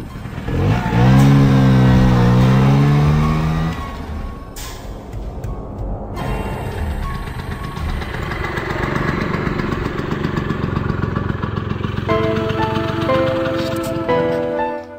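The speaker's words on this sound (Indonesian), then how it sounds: "aku langsung menaiki motor" A motorcycle engine revs loudly up and down near the start, then settles into a steady, rumbling idle, with a few rising revs and a high tonal whine returning toward the end.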